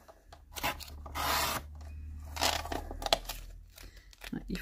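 Paper cutter (massicot) blades rubbed against a coarse sharpening stone, giving repeated near rasping and scraping strokes of varying length over a low steady hum.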